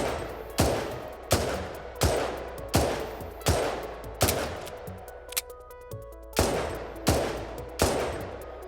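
Revolver shots in the video game Digi gods ring out in a steady series of about eleven loud, evenly spaced blasts, each with a short decaying tail. A brief metallic clatter around the middle breaks the rhythm, with no voices.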